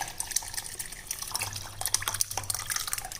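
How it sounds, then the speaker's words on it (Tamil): Rasam mixture pouring and splashing into a pot of lentil water, with irregular drips and sloshes close by, no voices. "இப்போ இந்த பருப்பு தண்ணி எடுத்து வச்சுருக்கோம் இல்லைங்களா இதோட இந்த ரசக்கலவையை சேர்த்துடலாம்"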